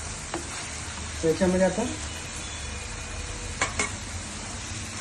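Spices sizzle and fry in a hot pan while a cook prepares sandge. There is a brief louder burst of crackling partway through, and someone talks over the steady frying.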